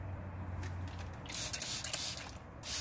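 Mineral spirits are sprayed to clean drum brakes. A quiet background gives way to close, hissing spray bursts, with short pulses leading into a longer blast and a final spurt at the end.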